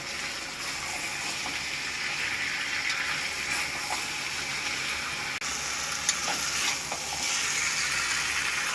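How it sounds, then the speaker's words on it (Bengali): Onions sautéed in a pan with chicken curry masala, producing a dense, even frying hiss with occasional faint stirring clinks, heard close and fairly soft throughout. "চিকেন কারি মশলা দিয়ে দিচ্ছি। তো আবারও ভালোভাবে কষিয়ে নেব।"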